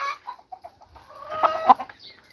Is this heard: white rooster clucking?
yes